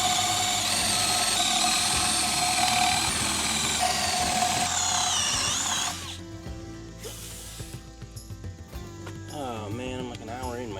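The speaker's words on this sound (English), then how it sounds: "I'm not sure my eyes are good enough to drill these holes plumb." A power drill boring holes in wood during a cabin build, a loud whining mechanical drone that cuts off partway through, leaving quieter clicking, rattling and rising tonal sweeps.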